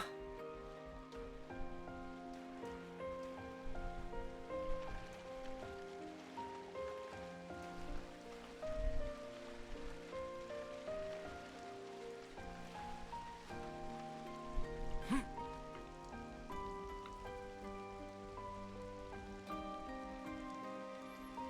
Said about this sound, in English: It does look like it's about to rain